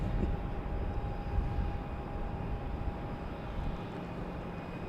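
A Turkish Airlines Airbus A350 arriving from Istanbul, heard as a steady, broad jet rumble with a faint high whine, constant and moderately distant throughout, no voices.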